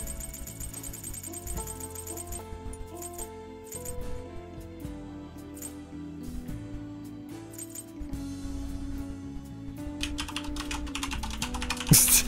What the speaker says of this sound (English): Fierce typing.